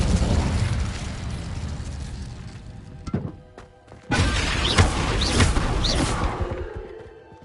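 Incendio fire spell cast in Hogwarts Legacy, a dense roaring, crackling burst of flame that fades briefly into a soft lull, then surges back loud and steady with sharp pops on top.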